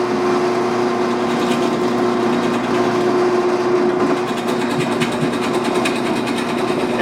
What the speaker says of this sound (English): And so now let's see what it looks like drilling.